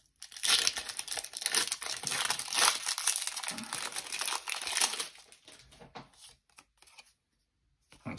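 A foil Pokémon TCG Vivid Voltage booster pack is torn open with close, continuous crinkling and crackling for about five seconds, then fades to a few softer rustles.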